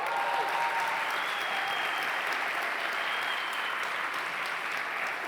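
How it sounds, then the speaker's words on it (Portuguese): A church congregation applauds during an Easter sermon, producing sustained, even clapping from many hands that continues steadily for several seconds without a break. "Você pode aplaudir o Senhor?"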